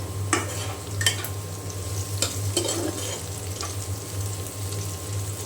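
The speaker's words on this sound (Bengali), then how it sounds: "এখানে আমি রসুন কাঁচামরিচ আর পেঁয়াজ দিয়ে দিয়েছি তেলে" Garlic, green chili and onion frying in oil in a pan, a steady close sizzle with a low hum underneath and several sharp scraping stirs of a spatula.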